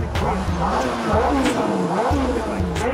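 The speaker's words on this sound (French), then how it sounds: "le bruit de la Ferrari quand même, c'est pas mal" A Ferrari sports car engine revs hard and roars close by, pitch rising and falling as it accelerates through gears.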